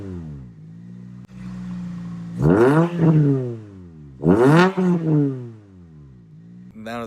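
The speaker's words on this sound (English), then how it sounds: "I wanted to let you guys hear what it sounds like without the muffler on the car." Toyota Celica four-cylinder engine running without a muffler, idling then blipped twice in sharp, raspy revs that rise and fall back to a loud, uneven idle, recorded close by outdoors.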